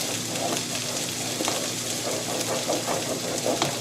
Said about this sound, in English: keep stirring it all the way around, scraping the bottom with this nice edge here